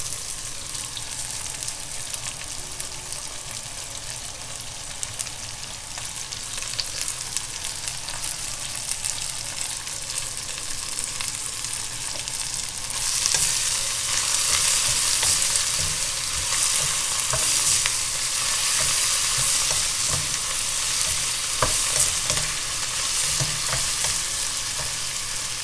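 Coriander (dhania) and mint (pudina) leaves sizzle and fry steadily in a pan with occasional stirring, the crackle growing louder and brighter about halfway through, with no talking.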